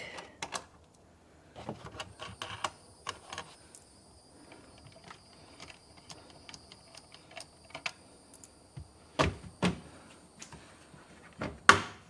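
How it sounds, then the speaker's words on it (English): Bolts being removed by hand from the taillight of a 2007 Subaru WRX: scattered light metallic clicks and ratcheting ticks, close and fairly quiet, with a few sharper knocks near the end and no talking. "So it's just these 4 8mm bolts on the back."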